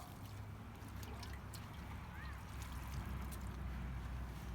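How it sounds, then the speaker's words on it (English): Water trickling and sloshing as a cloth is rinsed out while cleaning hard water stains off windows, a soft continuous watery wash with faint drips, fairly quiet and close. "let me rinse this out"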